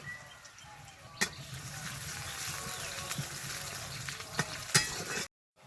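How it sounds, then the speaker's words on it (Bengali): Onion, garlic and cumin frying together in a pan, a quiet steady sizzle with occasional sharp clicks of stirring, close and faint. "পেঁয়াজ রসুন জিরে সব কিছু আমি একসঙ্গে দিয়ে হালকা করে ভেজে নিয়েছি"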